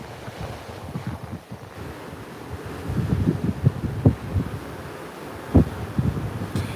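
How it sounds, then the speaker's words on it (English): Wind gusts and ocean waves on the open deck of the Utopia of the Seas cruise ship, a breathy rush with irregular low swells and bumps of wind against the microphone. "just listening to the wind and the waves."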